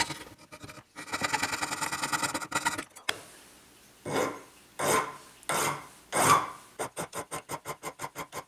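Hand filing a wooden clock part: a long run of rapid rasping, then slower separate strokes, ending in a quick even series of short scraping passes.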